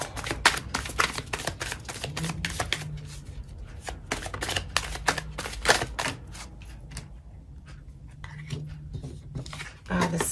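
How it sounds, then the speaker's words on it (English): Tarot cards are shuffled in quick riffling bursts of crisp flicks and slaps, with short pauses and a voice speaking softly in between. "Just gonna shuffle one more time"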